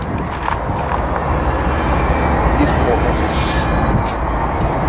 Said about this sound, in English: looks like this train's coming to a halt